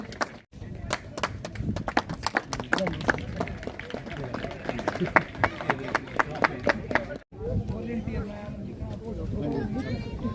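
An audience at a cricket-cup prize distribution claps loudly for the umpire, a dense patter of many hands through most of the stretch. It breaks off briefly, then murmuring voices and lighter noise follow.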